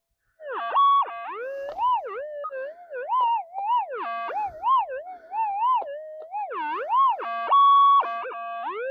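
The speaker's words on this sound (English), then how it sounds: "It's completely overloading the input stage of the detector. It cannot handle it. It's saturating." Metal detector fitted with a large modified coil, overloading and saturating during a ground test: loud, continuous warbling electronic tones that swoop up and down in pitch, with no voices.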